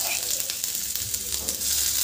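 Spices frying in refined oil with garlic, ginger and green chili, a loud, continuous close-up sizzle with a few faint knocks.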